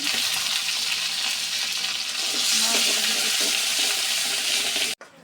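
Cumin, onion and garlic sizzle loudly in hot oil for a dal tempering, a dense, steady frying hiss that stops abruptly near the end.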